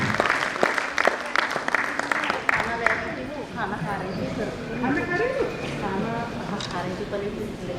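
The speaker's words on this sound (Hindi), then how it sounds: "आप जोरदार तालियों से इनका स्वागत करें" An audience gives a loud round of clapping to welcome a guest at an AIMLTA gathering. The clapping is sharp and dense at first, then fades under someone speaking over a public-address system.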